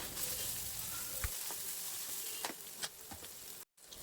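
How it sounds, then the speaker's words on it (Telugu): Ginger garlic paste frying with browned onions in a pan for a Telugu tomato and spring onion curry, a soft steady sizzle with a few sharp clicks and pops, fairly quiet, no voices. "ఇప్పుడు మనం ఒక 2 స్పూన్లు అంతా అల్లం వెల్లుల్లి పేస్ట్ వేసుకొని పచ్చి వాసన పోయేదాకా ఎంచుకోవాలి."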